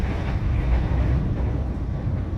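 Matarmaja passenger train travelling fast in Indonesia, a steady loud low rumble and roar of wheels on rail heard continuously, heavy and constant without breaks.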